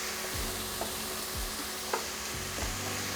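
Sausages get stirred and fried with garlic in a pan for a broccoli cauliflower casserole, a dense constant sizzle under low rumbling scrapes as the pieces are pushed around, near and steady, with no voices.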